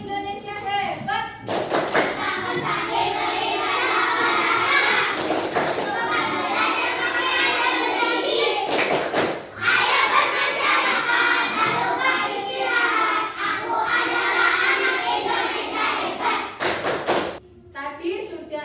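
Children in an Indonesian fourth-grade classroom perform a rhythmic clapping chant, with repeated hand claps, thumps and taps in patterned bursts under their own chanting voices and a teacher's talk.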